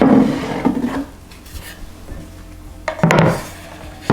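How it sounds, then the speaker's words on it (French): A cutting board is lifted and set back down on a kitchen counter, with a cluster of woody knocks and scrapes at the start and a second solid clatter near the end, close and fairly loud. "Je vais récupérer la planche à couper."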